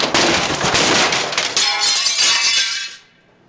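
A glass door shatters after being struck by a copy machine, a loud close burst of breaking glass with tinkling shards that runs for about three seconds, then stops abruptly into silence.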